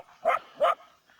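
On a farm with goats, sheep and young bulls, a dog barks twice in quick succession, moderately close, with a faint whimpering trail afterward.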